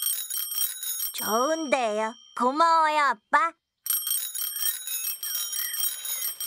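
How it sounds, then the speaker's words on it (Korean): A cartoon bicycle bell rings in bright, high trills, once at the start and again in a longer run near the end, while children's voices talk in between. "프레디는 자전거 벨을 두 개나 달았어요"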